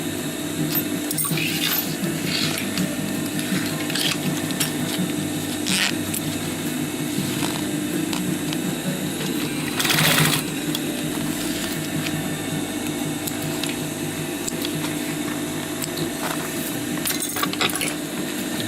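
A sewing machine stitches a fabric fanny pack, running in a steady, continuous mechanical whir close by, with a few faint clicks and taps along the way.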